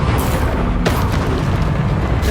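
A Bombarda spell bursts in the Hogwarts Legacy game with a deep, booming explosion, a sharp blast landing amid continuous dense rumbling combat noise, loud and close.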